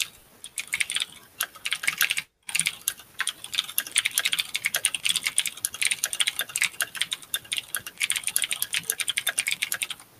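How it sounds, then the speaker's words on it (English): Rapid, steady clatter of computer keys being typed, close and continuous with a brief pause early on. "Damn, Don, are you typing an essay?"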